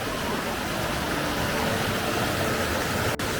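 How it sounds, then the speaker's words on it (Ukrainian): The Rostoka waterfall in the Bystrytsia river valley roars from below, a loud continuous broadband rush of falling water that fills the whole stretch without any voices. "А це водоспад Ростока знизу."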